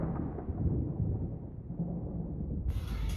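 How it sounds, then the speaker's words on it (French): A deep, rolling thunder rumble grows and sustains at close range, heavy in the low end, with a brighter crackle entering near the end. "C'est le tonnerre."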